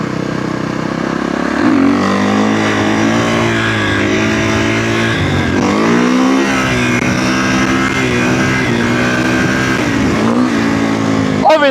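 An illegal dirt bike revs hard while riding wheelies, its engine pitch swelling and dropping through repeated throttle bursts, loud and close with steady wind noise and traffic around it.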